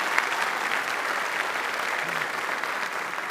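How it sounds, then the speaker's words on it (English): Guests at a graduate school hooding ceremony applaud the graduates, a steady, moderately distant wash of many hands clapping in a large hall. "let's give a big round of applause first time to all of our graduates"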